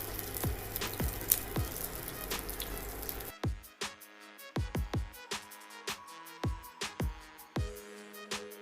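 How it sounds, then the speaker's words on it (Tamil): Potato cutlets shallow-fry in a pan with a moderate amount of hot oil, first as a dense, close sizzle with scattered pops, then as sparser, quieter crackles and spits. "இப்போ ஒன்று ஒன்றா சேர்த்து பொரிச்சிக்கலாங்க"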